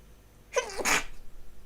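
A single close sneeze bursts out of a quiet background, short and sharp, with no talking over it.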